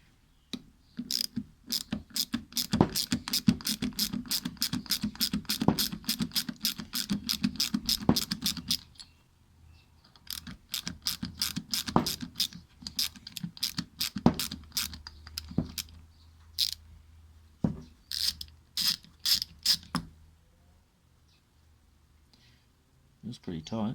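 Screws being backed out of a Ducati 749S motorcycle ECU casing, giving bursts of rapid ratcheting clicks from a driver in close, steady runs with short pauses between them.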